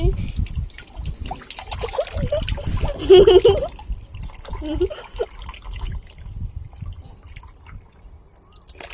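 Water trickles and splashes as a small child is bathed at home, a steady wet patter running under a voice speaking throughout.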